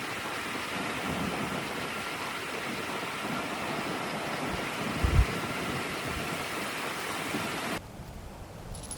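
Heavy rain at a seaside motorcycle camp, a dense, steady roar of downpour that holds evenly throughout with a brief low thump partway, then drops off sharply near the end.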